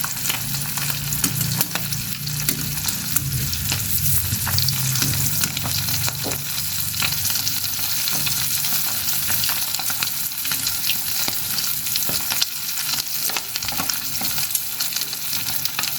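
Fish fries in a pan with a loud, continuous close sizzle and crackle and some stirring noise, steady for the whole stretch with no speech.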